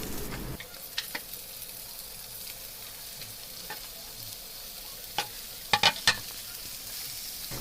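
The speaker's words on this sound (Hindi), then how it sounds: "तेल गरम होने के बाद मैंने एक के बाद एक सारे ही वेजिटेबल्स फ्राई कर रही हूँ, कुक कर रही हूँ।" Vegetables fry in hot oil with a soft, steady sizzle, broken by a few sharp utensil clicks and scrapes near the end.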